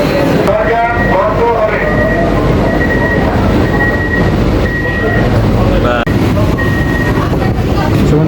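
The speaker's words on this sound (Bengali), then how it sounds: "ফার্স্ট এসি লোকাল শিয়ালদা থেকে রওনা দিল এই মাত্র।" A first air-conditioned EMU local train pulls out of Sealdah station in West Bengal, heard from inside as a loud steady rumble of wheels and motors with whining tones and a clank, while someone talks over it.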